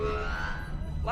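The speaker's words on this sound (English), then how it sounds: "the siren does the correct sound" Star Trek starship black alert siren from a tabletop role-playing session, a loud electronic wailing tone that holds steady and then sweeps upward near the end, with a low murmur underneath.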